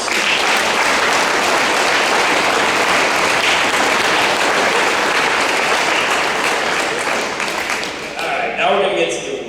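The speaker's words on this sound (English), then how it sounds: "let's give these guys a round of applause for a wonderful season" Loud, sustained applause from a large audience at a high school football banquet, steady for several seconds before tapering off near the end.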